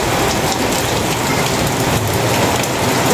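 Heavy typhoon rain pours down in a dense, steady roar, loud and close, with no voices.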